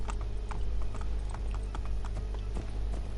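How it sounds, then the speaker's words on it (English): Horse hooves clip-clopping at a steady walking rhythm in Assassin's Creed II, crisp regular clops over a low constant hum, close and moderately loud, with no talk. "for some reason you can now ride horses into town"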